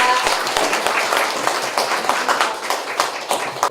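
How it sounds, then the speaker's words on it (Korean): A small gathering claps at the opening ceremony of a neighborhood community room in Gwangju, Korea, with sharp individual claps rippling steadily at close range for several seconds. "박수 큰 박수 부탁드리겠습니다"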